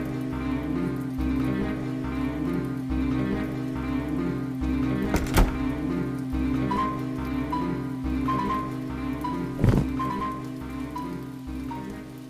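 Rain falling outside during a night scene in a Tamil thriller short film: a steady, even patter that runs throughout, with soft tonal music beneath and two brief louder knocks near the middle and later on.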